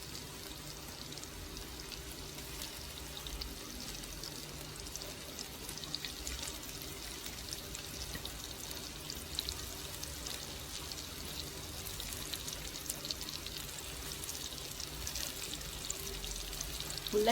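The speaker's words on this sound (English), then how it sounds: "you can fry them all at once" Meatballs frying together in a pan, a faint, steady sizzle and crackle that holds evenly throughout.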